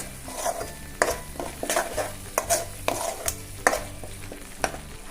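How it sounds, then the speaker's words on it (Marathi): Kolhapuri egg masala paste is stirred and fried in oil in a pan, with regular scraping strokes of a spoon over a steady sizzle, up close and with no talking. "हे बघा असं तेल सुटलं पाहिजे, असं भाजून घ्यायचा मसाला चांगला"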